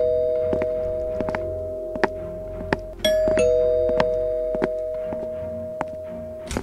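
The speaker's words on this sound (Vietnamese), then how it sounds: "Ai bấm chuông nhà mình vậy?" A doorbell chimes in GTA 5, a clear ding-dong tone ringing out mid-scene amid scattered soft thumps and clicks, with no talking.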